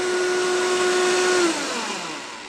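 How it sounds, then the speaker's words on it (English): A blender whirs steadily at high speed as it emulsifies cacio e pepe sauce, a loud continuous motor hum with a steady pitch that drops and winds down toward the end. "The way any kind of blender works is that there is friction, huge amount of friction inside because of the blades"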